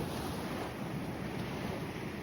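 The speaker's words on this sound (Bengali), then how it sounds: "অসাধারণ ঢেউয়ের আওয়াজ, মনে হয় সমুদ্রের মাঝখানে রয়েছেন আপনি একেবারে।" Sea waves wash steadily at Bakkhali beach on the Bay of Bengal coast, a continuous broad surf roar with wind noise over the microphone and no voices.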